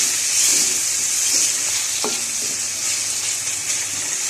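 Chopped tomatoes sizzling steadily in hot masala paste in a pan for restaurant-style masala bhindi, a dense continuous frying hiss with one brief clink near the middle, close and fairly loud.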